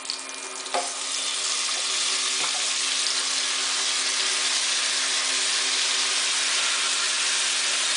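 Tap water runs over leeks at a kitchen sink, a continuous loud hiss of flowing water after a brief clatter at the start, steady and close, with no talking.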